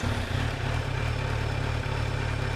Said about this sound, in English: Nice even tick over at about 1100 revs.